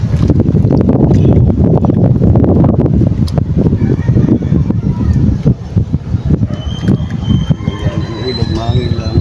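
Strong wind buffeting the microphone beside a river, a loud continuous rumbling roar with gusts, plus faint squealing tones toward the end.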